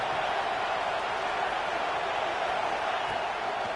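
Steady, dense stadium crowd roar from a College Football 26 video game, a near, even wash of cheering noise sustained throughout with no clear speech on top.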